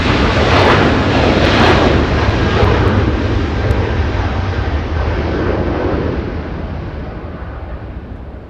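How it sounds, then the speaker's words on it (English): A Japan Airlines jet airliner takes off at Los Angeles International Airport, a loud, continuous engine roar that holds steady and then slowly fades as the aircraft climbs away. "Japan Airlines lifting off"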